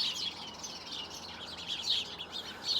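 Several birds sing and chirp in a garden bush beside brambles on a spring day, a steady stream of high, bright calls overlapping at moderate distance with no talk.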